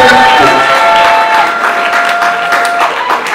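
Loud, continuous applause from guests at a Congolese celebration with folk music and a surprise car gift, a dense wash of clapping with some cheering that holds steady, then eases slightly.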